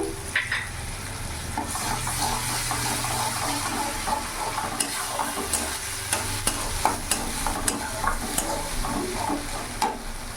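Ginger, chili and cumin paste frying in oil in a home kitchen, a steady close sizzle with scattered spoon scrapes and small clinks throughout, no talking.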